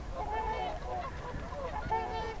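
Swans honk and call loudly while fighting at a pond, a run of harsh, nasal, repeated honks at moderate distance over a low background rumble.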